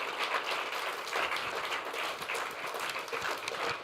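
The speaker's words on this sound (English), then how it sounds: "Let's get together and give him a great round of applause." Steady applause from a crowd, dense and continuous clapping that holds at an even level throughout without any talking.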